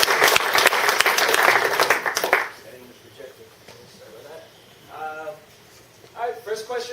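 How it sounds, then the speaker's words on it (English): Applause from a tech-talk audience for a database company's CTO, loud and dense for about two seconds, then quickly thinning out, followed by quieter room noise and a few short bursts of voices. "I just want to give a great big round of applause to Brian Bulkowski, CTO."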